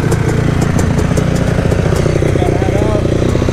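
A 1999 Yamaha YZ250 two-stroke dirt bike engine running loud and close, a steady buzzing drone with slight rising pitch, while voices talk over it.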